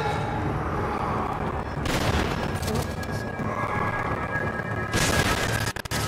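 Rapid bursts of gunfire in Resident Evil 5, with dense volleys around two and five seconds over a steady game soundscape and faint background voice.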